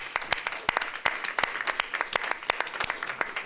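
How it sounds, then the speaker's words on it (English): A small audience claps at a public commissioners' meeting, the scattered individual hand claps sounding sparse and fairly distinct, coming from nearby for a few seconds. "I think that deserves a round of applause."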